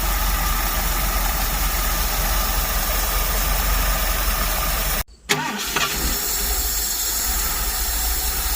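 A freshly started ratrod engine idles with a steady, close rumble and hiss, cuts out abruptly for a moment midway, then catches again and settles back into a smooth idle.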